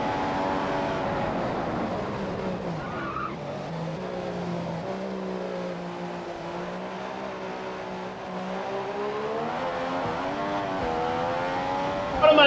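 A Mercedes Formula 1 car races around Spa in the F1 2015 video game, its high engine note rising and falling continuously through upshifts and downshifts, loud and sustained throughout.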